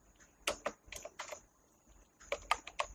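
Quick bursts of keystrokes on a computer keyboard while entering data into an Excel spreadsheet, crisp clicks in two short clusters separated by a pause, close up and with no voices.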